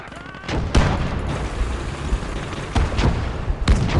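Mortar and gunfire in the World War II strategy game Gates of Hell, a dense continuous rumble of battle with several heavier booms and shots standing out, loud throughout.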